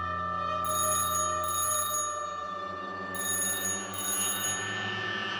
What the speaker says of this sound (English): Then Clara began to hear a phone ring